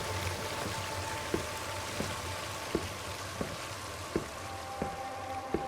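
Continuous broadband rush of a waterfall in the Dread Delusion video game, steady and enveloping, with faint regular ticking pulses underneath and no voices.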